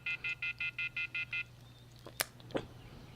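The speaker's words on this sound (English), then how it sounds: "Took out my cell phone and dialed the first number from my contact list." Cell phone keypad tones in the video game Everlasting Summer: eight quick evenly spaced beeps, clear and fairly quiet, followed by a couple of soft clicks over a low hum.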